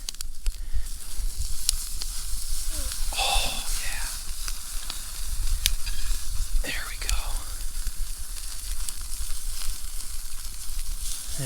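A steak with a knob of butter cooks over a campfire outdoors, a steady close sizzle and hiss running throughout, with soft whispery voices and occasional clicks and movements over it.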